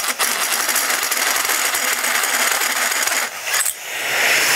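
A loose metal washer drops in a workshop where a fuel cell is being built, giving a short bright clatter and ring over a loud, steady background hiss.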